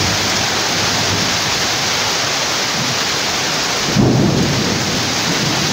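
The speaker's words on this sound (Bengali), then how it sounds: "আর এদিকে শিল পড়ছে, শিলা বৃষ্টিতে আমগুলো নষ্ট হয়ে যাচ্ছে বন্ধুরা।" Kalbaishakhi thunderstorm with heavy hail and rain: a dense, steady roar of pounding rain and hail, loud and close, with a brief heavier surge near the end.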